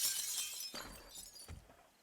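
Glass shattering in the video game 7 Days to Die as framed pictures are smashed, bright crashing bursts with two heavier impacts, loud and close with no talk.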